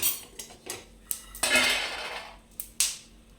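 Fried peanuts tumble onto a plate in a handful of sharp clattering bursts, one louder pour in the middle, close and alone.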